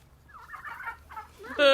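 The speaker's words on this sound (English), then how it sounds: "Those turkeys are so funny." Turkeys in a backyard gobbling in a few quick warbling bursts at moderate distance, ending in a sharper, louder gobble close by, with no speech.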